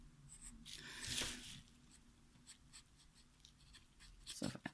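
An HB pencil scratches and scribbles across paper while a cat is drawn, with soft intermittent strokes and a louder burst of quick shading, close and quiet.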